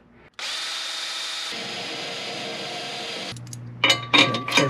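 Power drill boring holes for a Rough Country winch mount on a 2000–2006 Suburban or Tahoe, a loud close steady whine that shifts pitch midway, then stops and gives way to metallic clatter.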